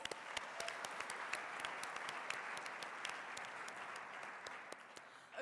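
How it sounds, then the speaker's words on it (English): A school audience at the Mr. BSHS 2021 pageant applauds steadily, with dense clapping from the crowd and sharper individual claps standing out near the front, holding even for several seconds before starting to thin at the end. "Let's give him one more round of applause."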